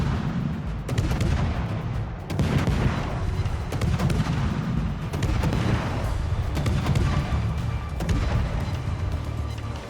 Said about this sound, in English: we're going to try and get some cheeky shots into the Thunderer over this ridge